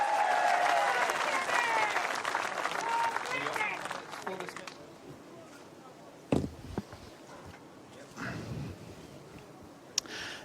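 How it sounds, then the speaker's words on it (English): Crowd applause for a New Zealand bowls player introduced before a men's singles final against Canada, loud and full for about four seconds, then fading into quiet with a few thumps and faint murmurs. "let's give him a big round of applause, ladies and gentlemen"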